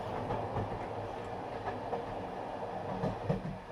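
A passenger train running on rails, heard from inside as a steady low rumble with faint repeating clickety-clack beats over the wheels, continuous and moderately loud throughout.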